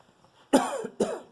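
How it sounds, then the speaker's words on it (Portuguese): Two harsh coughs, close and fairly loud, the second following about half a second after the first, with quiet room tone before them. "Desculpa eu estar tossindo assim"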